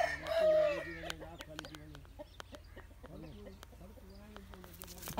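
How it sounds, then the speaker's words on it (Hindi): A roughly two-year-old Aseel rooster gives soft, repeated clucks and short throaty calls close by, fairly quiet, interspersed with someone talking. "ये तकरीबन 2 साल के लगभग की एज का मुर्गा है ये"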